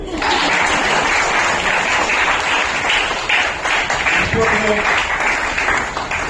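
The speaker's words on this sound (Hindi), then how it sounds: "ताली तो बजाओ रे" At an orator awards ceremony, the audience breaks into loud, sustained applause, a continuous wash of clapping from a full room, with faint voices beneath it.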